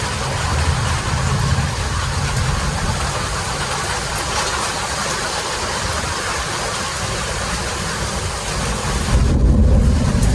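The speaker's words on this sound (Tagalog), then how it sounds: "Grabe, lakas ng kidlat." Heavy monsoon rain pours down in a dense, loud, unbroken roar while thunder from strong lightning rumbles low beneath it, swelling near the end. Nobody speaks.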